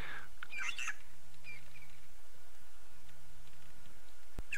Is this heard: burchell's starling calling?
yes